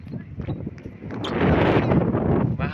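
Strong gusts buffet an outdoor microphone, making a loud low roar that builds and rumbles steadily near the end.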